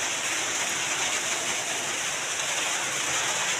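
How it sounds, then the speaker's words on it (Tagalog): Rain pours down outdoors in a steady, dense hiss that stays even and moderately loud across the whole stretch, with no voices over it. "Nag-ulan init siya guys."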